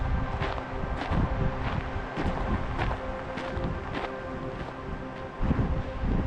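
Steady wind gusts on Winston Ridge in the San Gabriel Mountains, a 45-degree day at the start of a hike, a continuous rushing roar with brief louder surges, close to the microphone, with no talking.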